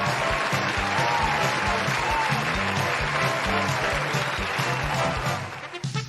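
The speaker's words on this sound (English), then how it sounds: "Can we get a round of applause" Steady, dense clapping carries on for several seconds, loud and continuous, then thins out and tapers toward the end.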